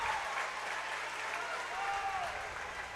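Steady applause from fans at a high school conference wrestling tournament semifinal, a dense even wash of clapping lasting throughout, with faint crowd voices underneath.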